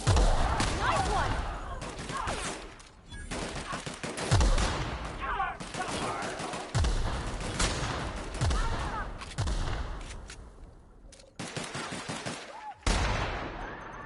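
Bursts of gunfire from the sci-fi shooter The Outer Worlds, with several loud volleys and rapid shots recurring in waves over a continuous game soundscape, a player's voice talking at times between the firing.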